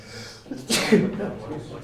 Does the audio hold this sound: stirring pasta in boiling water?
no